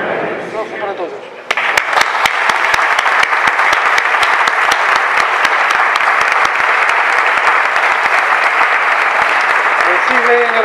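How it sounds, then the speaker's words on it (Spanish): Worshippers in a Seville church, at the blessing of a new altarpiece, break into loud, steady applause after a prayer. It begins abruptly after a few spoken words and continues as a dense, close wall of clapping. "Recibe en el calor del aplauso nuestra Junta de Gobierno"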